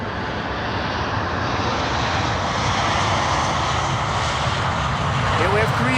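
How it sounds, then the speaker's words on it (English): A Korean Air Boeing 787-10 Dreamliner arriving at Amsterdam Schiphol, a loud continuous jet engine roar that slowly builds, with someone talking over it. "Here we have Korean Air. 787-10 Dreamliner arrived from Seoul with a capital S"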